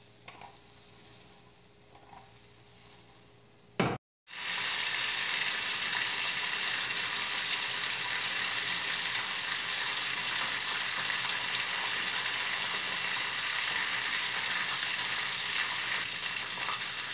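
Okra sautéing dry in a pan, Brazilian home-style cooking with no water added, gives a loud, steady sizzle after a brief stir and a short gap, sounding close and continuous.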